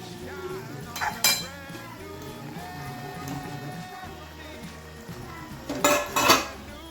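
Cooked brinjal goes into an onion-tomato masala in a pan, heard as a few sharp metal clanks of a spoon on the pan at the start and near the end over a low background hum.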